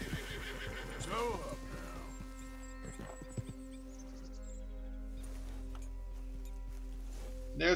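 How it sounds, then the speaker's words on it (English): A horse in the video game Red Dead Redemption 2 whinnies loudly close by, then hooves clip-clop softly over a quiet ambient game backdrop. "There's our horse."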